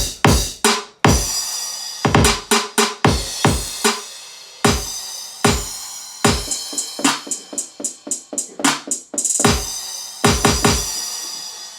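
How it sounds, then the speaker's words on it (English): A hip-hop beat built from scratch in a studio plays loud, with punchy drum hits repeating in a steady pattern and a hi-hat ticking between them. Tonal layers sustain underneath, and no one speaks. "All right, let's hear it with the hi-hat."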